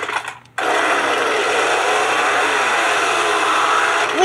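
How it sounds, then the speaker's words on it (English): A steady, loud motorized buzz starts abruptly after a brief moment and runs continuously, like a chainsaw engine revving in Garry's Mod. "A chainsaw. Yes."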